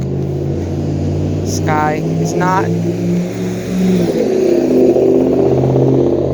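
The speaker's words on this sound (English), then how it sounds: "So here comes a truck." A truck passes along a suburban road, its engine rumble building and then rolling away nearby, with a brief clatter partway through and a person talking over it.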